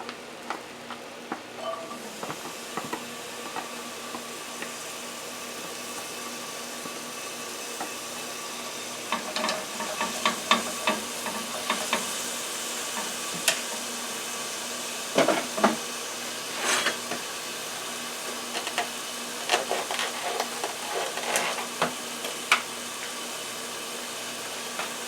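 Chopped onion sizzles in hot oil in a pan, a soft continuous frying hiss punctuated by scattered crackles and stirring clicks that grow busier partway through, with no talking.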